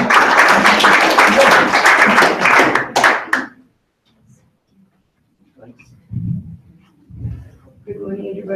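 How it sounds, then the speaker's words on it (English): Audience applause for a presenter at a discoveries report-back session, a dense burst of clapping for about three seconds that stops abruptly, followed by quiet and scattered low murmurs and movement. "let's give a round of applause for Heidi"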